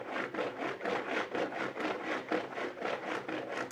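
A bar of laundry soap rubbed back and forth over a manual washboard, giving a steady rhythmic scraping at close range with no talk.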